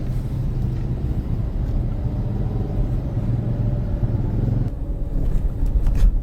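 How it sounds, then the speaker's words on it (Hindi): A car moving off through an open railway crossing gate in a village, heard as a steady, close low engine and road rumble that continues throughout, with no talking. "तो जैसे भी फाटक जो है वो खुला है ना, तो बस फिर जो है ना चल पड़ी है गाड़ी।"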